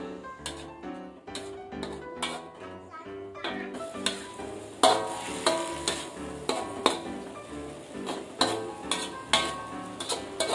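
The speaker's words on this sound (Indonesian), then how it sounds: "Kemudian kita akan tumis hingga airnya ini" Spicy chicken filling is stir-fried in a pan until its liquid dries off, with repeated spatula scrapes and clinks against the metal over a faint sizzle, close and busy throughout.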